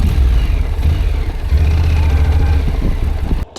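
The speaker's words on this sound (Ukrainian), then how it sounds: "Ви чуєте потужність цього двигуна?" A loud, rumbling engine revs and roars continuously up close, with a deep throaty tone, cutting off briefly near the end.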